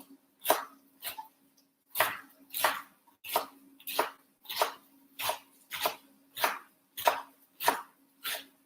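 A knife slices through rolled collard greens and kale on a cutting board, making about fourteen crisp, evenly spaced chops up close, each a short bright thud.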